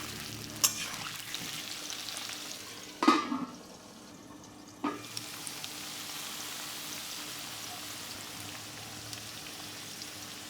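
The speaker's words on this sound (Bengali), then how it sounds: "এবারে ডাঁটাগুলো দিয়ে দেবো আবার নেড়ে চেড়ে ঢাকা দিয়ে মিনিট তিনেক ভাজবে" Chopped vegetable stems frying in a covered pan over medium heat give a steady, close sizzle throughout, broken by a few sharp clatters and scrapes as the lid and stirring spoon knock against the pan.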